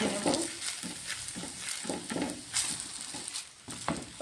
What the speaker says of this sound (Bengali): 1 চামচ ঘি দিয়ে ভালো করে ভেজে নেব